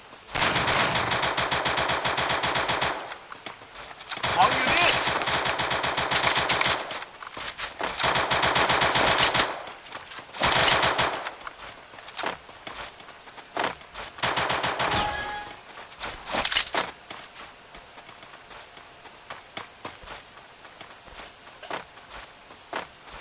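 Gunfire from the mobile shooter Free Fire, several loud bursts of rapid automatic fire broken by short pauses, then scattered single shots and footsteps fading quieter toward the end.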